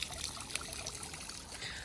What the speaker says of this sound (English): I was going to turn the pump off so you can see the water a bit more clearly, but I didn't.